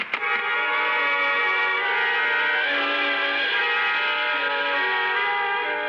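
Radio drama train effect: a steady rolling rumble carries sustained, echoing horn-like tones that shift pitch as the train travels.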